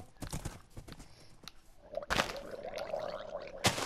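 Horse hooves in Minecraft, a series of uneven hollow clip-clop thuds, some sharp and close, over a light background tone, with no voices.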